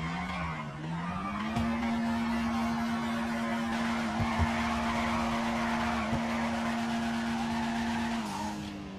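A car drifting in Grand Theft Auto V, with a loud sustained tire squeal that wavers and bends in pitch over a revving engine, plus a few sharp knocks before the skid trails off.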